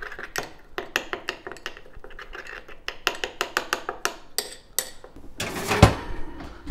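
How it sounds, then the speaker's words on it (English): A pot being stirred, with a string of quick metallic clinks and taps of a utensil against the sides, irregular in rhythm, followed by a louder scraping clatter near the end. "give it a little stir."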